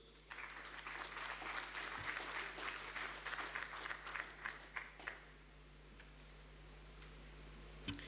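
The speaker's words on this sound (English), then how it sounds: "Another round of applause and appreciation for him" Scattered applause from a conference audience at a water and sanitation congress, a modest spread of claps thinning into a few isolated sharp claps before fading into room hum.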